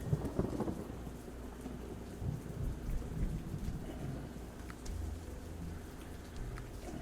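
Steady rain patters under deep rolling thunder in the video game Cleo - A Pirate's Tale, a low rumble swelling and fading beneath the continuous hiss of falling rain.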